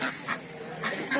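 Ducks and geese at a busy poultry market give a few short, moderately loud quacking calls in irregular bursts over steady crowd and market background noise.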